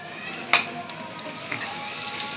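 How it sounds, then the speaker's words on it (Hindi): Cumin seeds with garlic-ginger paste frying in hot oil while cooking eggplant and potatoes, a steady close sizzle with occasional sharper crackles and pops, no talking. "तो ज़ीरा फ़ौरन हो जाता है गरम ऑयल में"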